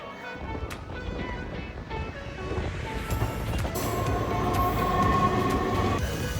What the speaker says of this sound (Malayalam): ഒരുപാട് ആൾക്കാർ വന്നു പോകുന്നൊരു റെയിൽവേ സ്റ്റേഷനാണ് പനവേൽ.